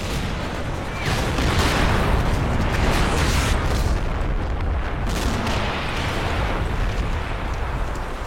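Howitzer artillery in a war video game keeps up a dense, continuous barrage of heavy booms and rumbling blasts that blur together into a loud, sustained roar.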